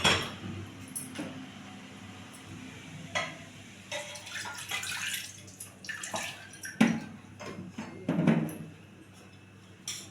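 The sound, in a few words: water being poured into tamarind curry (kuzhambu)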